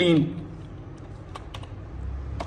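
Computer keys tap in short scattered clusters, light and close, while a command is typed during a Windows 10 installation fix; a brief voice is heard at the very start.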